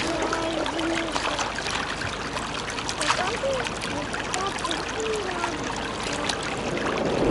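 Water trickles and splashes in a small icy mountain stream while hands are washed in it, a close, continuous babble with faint voices in the background.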